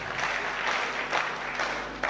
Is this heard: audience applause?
yes